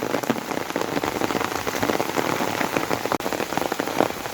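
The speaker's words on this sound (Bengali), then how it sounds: "তারপরে অসময় বৃষ্টি হয়" Steady, dense rain pours down outdoors during the rainy season near taro plants and fishing water, a close, continuous hiss of drops hitting surfaces with one brief dip partway through and no talking.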